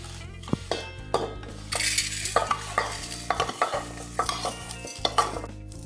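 Semiya vermicelli fries in a pan for a sweet halwa under a low hiss, with a spoon scraping and clinking against the metal in irregular stirring strokes, close and clear.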